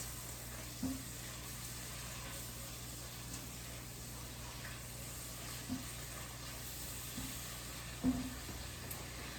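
Garlic cooking in a pot for chicken verde stew gives a soft, steady sizzle and hiss with a low background hum, broken by a few faint knocks from a utensil.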